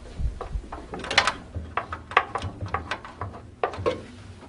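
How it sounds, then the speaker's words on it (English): Screws are backed out at the rear of a Rev-A-Shelf pullout wood pantry, giving a quick run of small ratcheting clicks and metallic ticks, close and fairly quiet, with no voices. "you can now move to the rear of the pantry where you begin to remove the tilt and adjustment screws"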